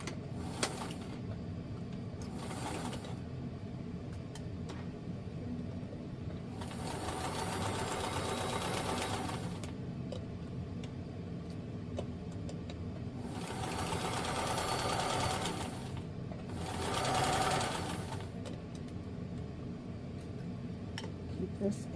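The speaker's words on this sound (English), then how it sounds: "And I can sew this together 5/8 of an inch seam allowance." A home sewing machine stitching a 5/8 inch seam on a New Look 6603 garment, several bursts of fast whirring separated by quieter pauses, close and fairly loud, with a faint low hum underneath.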